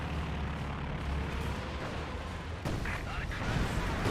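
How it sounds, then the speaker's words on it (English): A Katyusha rocket barrage in Company of Heroes 2 booms and rumbles through a dense wash of battle noise, with a sharp crack midway, partly under a voice commentating. "Katusha Barrage over here looks like."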